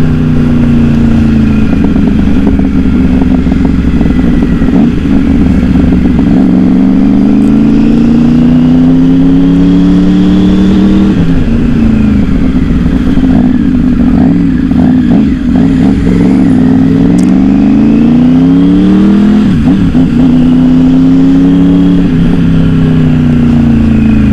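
A brand-new, unregistered Adventure motorcycle's engine runs loud and close, holding a steady idle with several rises and falls in pitch as the throttle is blipped.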